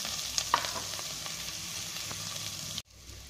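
Chopped carrot frying and being stirred in a pan for millet khichdi, a steady faint sizzle with light scraping stirs throughout, cutting off abruptly near the end.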